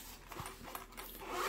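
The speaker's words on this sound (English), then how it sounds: "with a zipper" A short zipper being pulled open on a case, a quick rasping slide close to the listener.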